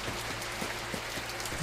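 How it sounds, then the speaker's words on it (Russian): Steady rain in the S.T.A.L.K.E.R.: Shadows of Oblivion video game, a continuous hiss of drops pattering on a surface with faint rhythmic low thumps underneath, no talking. "что-то мне этот дождь не нравится"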